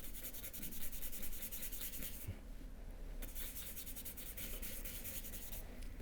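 White paint being rubbed into a canvas with dry paint for an ambiguous figurative painting, a steady soft scrubbing texture throughout, close and fairly quiet, with a brief pause in the middle.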